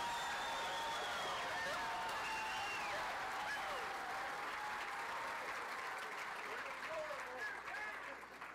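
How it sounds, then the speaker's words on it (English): Sustained, dense applause from a large political rally crowd in Calgary, steady and loud throughout with scattered whoops and shouted voices mixed in. "Clap, you deplorables, clap."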